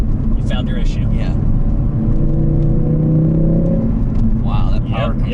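A Ford Focus RS accelerates from inside the cabin, its engine note climbing in a steady rising whir over a deep rumble, with people talking before and after the pull.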